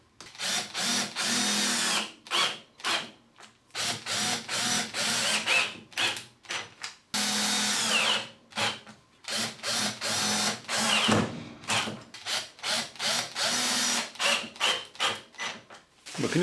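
Power drill driving screws into a plastic milk crate through plywood, in repeated short bursts of whirring with brief pauses between, close and fairly loud, with no talking.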